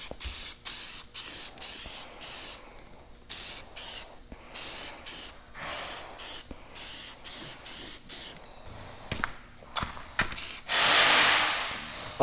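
Spray paint can hissing onto John Deere planter parts in a series of short, even bursts about half a second each, close and loud, ending with one longer continuous spray.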